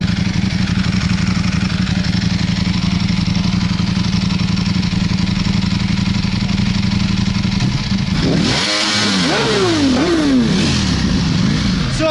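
A liter-class Ducati motorcycle racing against a Stage 2 Audi S3, heard from inside the car: a steady loud engine drone, then a burst of rising and falling revs near the end.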